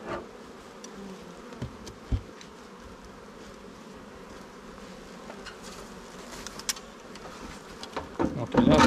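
Honey bee colonies buzz at an apiary beside sunflower fields, a steady soft drone of many insects with scattered louder passes near the end, fairly faint and with no clear talk.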